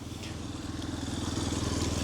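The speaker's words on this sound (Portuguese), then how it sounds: "Passando uma moto aqui agora" A motorcycle passes nearby, its engine a steady droning rumble that grows slightly louder toward the end, with no talk over it.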